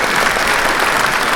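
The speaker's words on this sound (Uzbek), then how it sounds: "Qarsanglar bilan olqishlab turasizlar." An audience at a live comedy show breaks into sustained, even applause, a thick close wash of many hands clapping without pause and with no talk on top.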